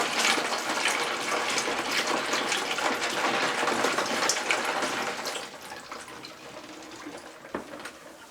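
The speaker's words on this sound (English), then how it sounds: "how much water I want to add to each boot" Water is poured into rubber and fabric winter boots for a waterproofing test, making a close, loud rushing gush that eases off somewhat in its last few seconds.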